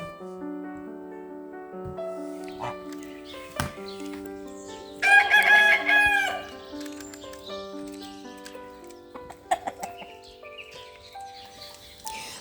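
A rooster crows once, loud and close, in the middle of a steady background of tones and faint farmyard noise with hens and geese in a German village.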